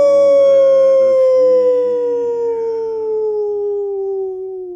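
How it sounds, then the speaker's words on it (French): A dog tied to a low garden wall howls in one long, loud, mournful wail that slowly falls in pitch over several seconds, close and alone with no other sounds. "C'est le chien, attaché au muret, qui pleure sa maîtresse."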